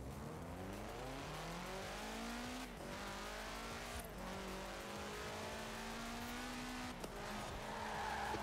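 Car tires skid and squeal in the racing game Forza Horizon 4 over a steady engine drone, with rising and falling whines and a few sharp impacts, continuous and loud throughout.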